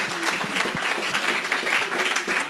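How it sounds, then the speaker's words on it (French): A church congregation breaks into sustained, dense applause and cheering in praise of Jesus Christ, a loud, steady wash of many hands clapping that fills the space throughout. "Acclamons Jésus-Christ."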